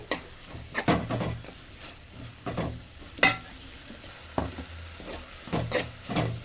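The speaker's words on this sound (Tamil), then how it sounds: "இந்த பச்சை வாசம் போகிறது வரைக்கும் கொஞ்சம் கிண்டி விடணும்" A drumstick stir-fry with ground coconut, pepper, turmeric, garlic and onion is stirred in a hot pan, with repeated scraping spoon strokes over a gentle sizzle, heard up close and without talk.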